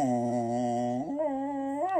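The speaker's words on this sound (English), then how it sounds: "she actually taught her dog how to sing" A dog howls in a long, sustained, singing tone that slides up partway through, close and steady, with no talking.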